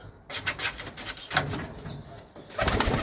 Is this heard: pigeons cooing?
yes